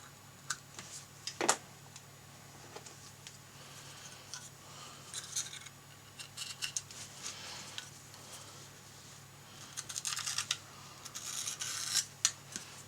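Polarizing film is trimmed from the back of a 1990-96 Corvette LCD panel, giving faint, sparse snips and light scraping clicks close by in a quiet room.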